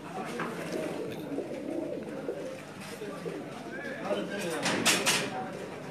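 Soft pigeon cooing repeats nearby amid background chatter, with a few light clinks near the end.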